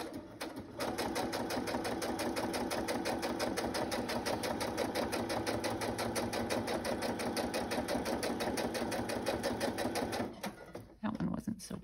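A sewing machine stitching through brown paper bag, a loud, fast, steady mechanical rattle running continuously for about ten seconds before stopping, with a brief voice and handling noise at the end.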